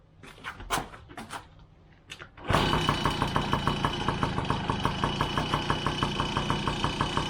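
A Yamaha PW50 dirt bike, running a little rich in oil after its oiler pump was removed, gets kicked a few times, then its small two-stroke engine catches and idles loudly up close with a rapid, even putter.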